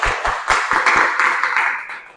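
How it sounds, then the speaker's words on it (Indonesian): A class of students claps for a classmate in a university lecture room, a short burst of hand claps that starts as a few separate slaps, swells into brisk even applause and then fades. "Kasih tepuk tangan dulu untuk teman kalian."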